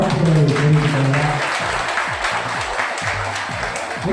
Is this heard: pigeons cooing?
no